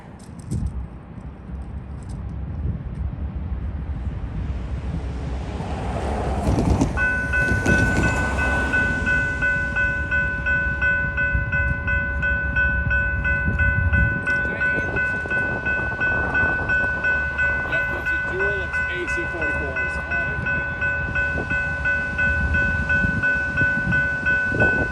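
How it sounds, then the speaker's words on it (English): A CP freight train arrives on the Belleville Sub, a loud, steady rumble of locomotive and rolling cars with a sustained horn blast partway through, close to the tracks. "We got word that a CP train was heading our way."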